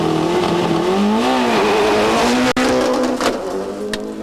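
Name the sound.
Subaru rally car racing, 1994 Rally New Zealand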